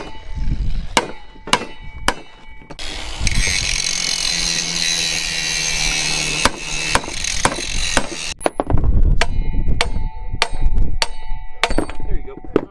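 Drive shaft being cut and modified in a pole barn garage during a racecar build, with repeated sharp metallic hits and clanks, a sustained stretch of grinding or cutting noise in the middle, then more spaced impacts, close and loud.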